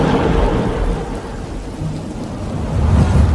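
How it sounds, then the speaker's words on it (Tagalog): Heavy rain pours in a dense, steady hiss while low thunder rumbles underneath, swelling louder near the end. "Oh, lakas ang ulan."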